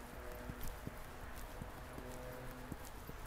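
Horse hooves trotting during a riding lesson, giving a steady two-beat clip-clop of moderate loudness over a constant background hiss, with no voices over it.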